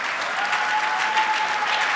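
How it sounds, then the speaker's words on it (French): Crowd at a Thanksgiving seminar clapping for the Lord: loud, dense, sustained applause from many hands, close and continuous throughout, with a faint tone in the background. "If you are well tonight, clap for the Lord."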